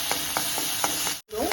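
Onions and tomatoes sautéing with salt in a pan, a steady loud sizzle broken by several soft stirring scrapes and a brief drop to silence near the end.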